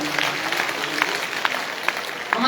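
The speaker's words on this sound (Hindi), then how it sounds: "एक बार जरा जोरदार तालियां" An audience at a live Hindi poetry gathering in Rudrapur gives a round of applause, a steady medium-loud wash of clapping with a few sharper individual claps standing out.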